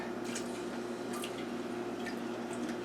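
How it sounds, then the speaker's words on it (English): Dried potato fries cook in oil at about 330 degrees, giving a faint, steady bubbling sizzle with scattered small pops and drips over a low hum. "All right, so put my thoroughly dry fries in."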